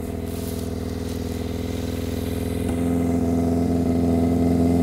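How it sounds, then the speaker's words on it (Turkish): Warmed-up motorcycle engine now firing on all four cylinders after sitting about two months, a loud steady multi-cylinder idle hum that rises slightly in pitch midway, close and continuous with no talk. "Isındı, 4 silindire çıktı bak. Duyuyor musun?"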